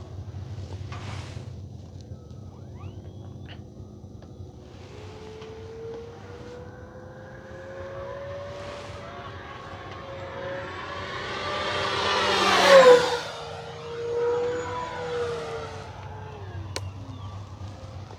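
An E-flite T-28 Trojan V2 RC model airplane with a 1.2 m wingspan flies overhead, its motor whine rising in pitch and loudness to a close pass, then fading against wind noise.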